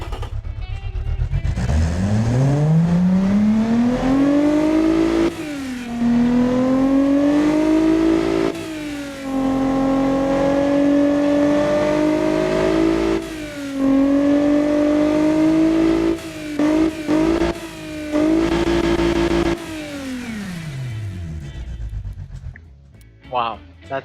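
A tuned car engine making 351 horsepower on stock internals revs hard through loud mufflers, climbing and dropping in pitch over several long pulls, then cutting off near the end.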